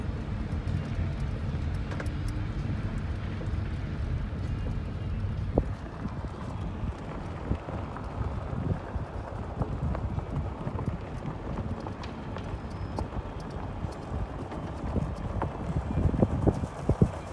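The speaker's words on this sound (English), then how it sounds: "we're going down a really bumpy gravel road, so if it's bouncy a little bit, I apologize for the quality" A vehicle rolls down a rough, bumpy gravel road at a retired air force base, with steady low rumble and irregular knocks and crunches from the surface throughout, fairly loud and without talk.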